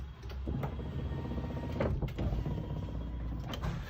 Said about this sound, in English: The first one operates the door, the entry door.